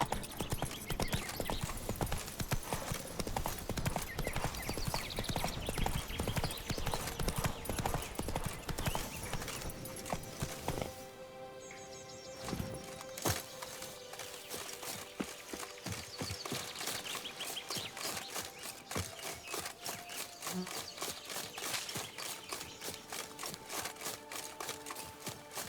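Roach, Geralt's horse in The Witcher 3, trots with loud, steady clip-clop hoofbeats throughout, layered over a busy background of music and game sounds, with no one talking.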